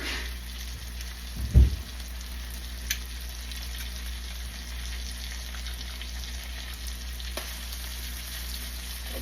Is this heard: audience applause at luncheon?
no